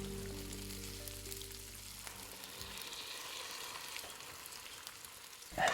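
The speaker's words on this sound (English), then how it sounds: "Should we let that bubble away for a little while?" A coconut milk dish bubbles and sizzles in a pan, with a steady frying hiss that carries on alone after a brief low hum fades out.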